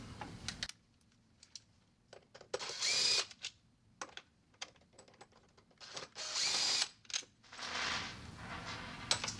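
A power screwdriver backs screws out of the power head on a CSI Signature II water softener control valve, whirring in several short bursts separated by clicks and small handling noises.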